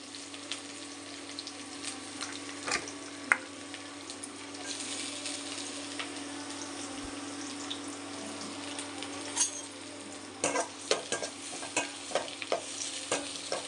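Onions sizzle softly in a hot pan with green chilli and curry leaves while a utensil stirs and scrapes now and then, a quiet, steady crackle with occasional clinks.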